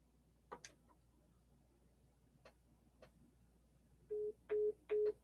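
A call placed on a cell phone: a few soft clicks and taps, then three short, loud dialing tones in a row, close and with no one talking.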